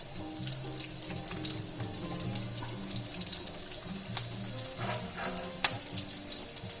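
Ginger and garlic sauté in a pan with steady sizzling under a watery, running texture, punctuated by soft clinks and stirring, close and continuous with no voices.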